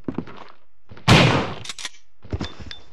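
Jill fires a shotgun in Resident Evil, giving one sharp, loud blast that decays over about half a second. Softer, shorter thumps and sounds come before and after it.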